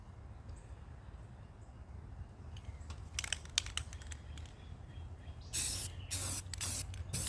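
Spray paint hisses in short bursts onto a Speedex wheel with its tire still mounted, starting faint and growing into several longer, louder sprays near the end, with no talking.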